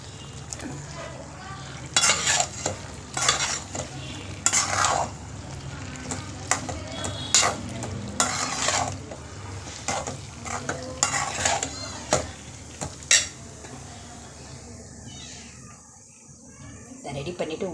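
Large prawns sizzle in a pan with onions and garlic while a metal spoon scrapes and stirs in repeated bursts, loud and close, before the frying settles into a quieter hiss near the end; no one speaks.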